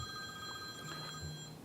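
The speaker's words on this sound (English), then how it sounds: "Commissioner Kirk's phone" A phone rings with a steady electronic tone during a school board meeting, a short clear ring over quiet room hum with no talking.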